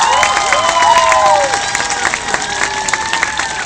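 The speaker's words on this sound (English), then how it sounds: "So let's give them a round of applause for being out there" Audience applause and cheering at an elementary school Red Ribbon event, steady clapping mixed with children's shouts and whoops throughout.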